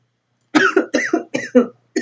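A series of about five harsh, throaty coughs in quick succession, close to the microphone, followed by a short pause and another cough.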